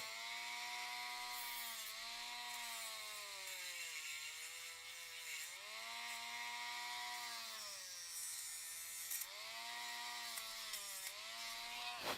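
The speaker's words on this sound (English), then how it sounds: "we can kind of shave all the glue out" A tool scrapes dried glue out of the ankle joint of an AxyToys Dinosaur Warrior toy with a whirring, grinding tone that rises and falls in repeated strokes every few seconds. It is close, faint and alone.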